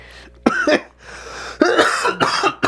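Several close, harsh coughs come in short bursts, a pair early on and then a rougher cluster near the end.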